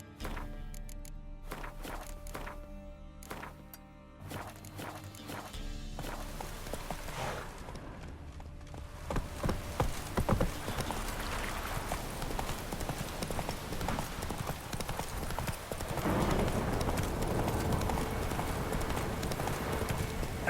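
Roach the horse galloping in The Witcher 3 on PS5, a steady rapid clip-clop of hooves that starts as a walk and quickens into a run, loud and close over game ambience and music.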